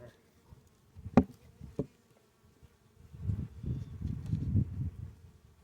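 Honeybees buzz around an open hive, a low droning hum swelling in the second half after a couple of brief sharp knocks near the start, with no speech.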